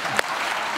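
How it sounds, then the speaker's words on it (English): Studio audience applauding a self-defense instructor's assistant arriving in a padded protective suit on a morning talk show; even, continuous clapping with one sharper clap standing out near the start. "round of applause for Mike"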